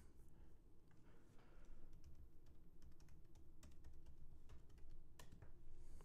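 Quiet, close typing on a Mac computer keyboard, a steady patter of light key clicks with a few sharper taps, continuing alone for about six seconds.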